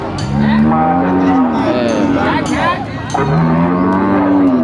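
Cattle at an open-air livestock market in Surin, Thailand, let out loud, drawn-out moos close by, two long calls separated by a short gap, with crowd bustle in the background.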